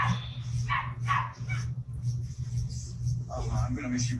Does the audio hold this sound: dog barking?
yes